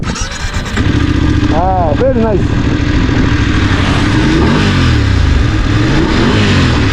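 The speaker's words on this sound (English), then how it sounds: "Let's hear the engine." A Voge DSX 900 motorcycle engine revs hard during an acceleration run, loud and close, its pitch climbing and dropping over a steady roar, with a brief remark from a rider.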